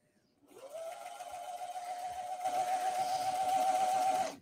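A serger overlocker sews along a fabric edge, its motor spinning up quickly into a loud, steady high-pitched buzz with a fast rapid stitching rhythm, close by and alone, before stopping abruptly.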